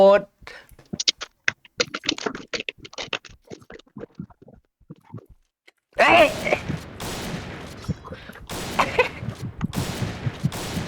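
Rapid gunfire in a video game shooter erupts in dense, loud overlapping bursts partway through, after a stretch of excited talking; voices carry on under the shooting.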